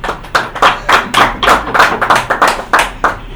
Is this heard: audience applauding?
yes